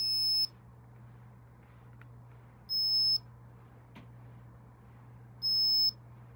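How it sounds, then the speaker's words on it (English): A Blindshell phone gives three loud, high-pitched electronic beeps when it powers on. The beeps come at even intervals over a low, steady hum, and no one speaks. "I'm going to go ahead and turn on the power button, and it's going to give this really obnoxious high-pitched beep."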